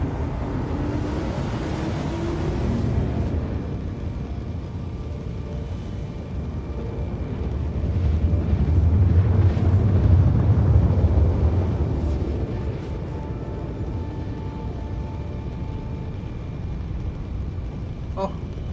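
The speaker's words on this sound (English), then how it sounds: "Oh, I love the fact you can hear the engine." A spaceship engine in Star Citizen rumbles low and steady in flight, swelling to a louder roar midway before settling back to a constant hum, with faint clicks and tones over it.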